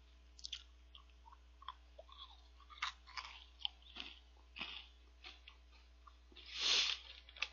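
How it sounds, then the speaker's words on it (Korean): Close, quiet chewing of a crunchy chocolate star snack from a convenience store, with irregular crunchy bites and mouth sounds throughout and one louder crunch near the end. "지금 과자 먹고. 지금 막 오늘 계속 막 초콜릿 종류만 먹고 있어요."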